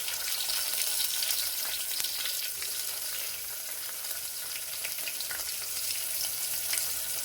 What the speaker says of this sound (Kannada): ಇವಾಗ ಕಟ್ ಮಾಡಿಟ್ಟಿರುವಂಥ ಟಮಾಟಿ ಹಾಕೋದು.